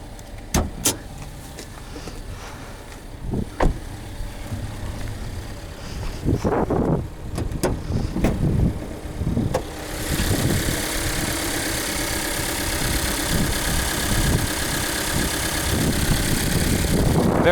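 A 2020 Subaru Crosstrek Hybrid with a 2.0 Boxer engine and CVT runs in the cabin, with clicks and thumps early on, then a steady broadband engine and road roar that builds and holds loud through the second half.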